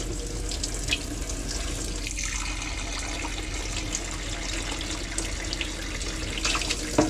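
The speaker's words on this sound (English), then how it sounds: "There's nice hot water coming out of there now." Hot water runs steadily from a tap in a 2016 Pastiche 460/2 caravan, a continuous close splashing rush that holds an even level throughout with no talking.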